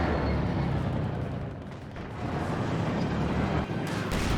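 A loud, sustained blast rumbles from an anti-tank grenade in the Company of Heroes 2 strategy game, with a broad roar that dips briefly and then swells again amid battle noise.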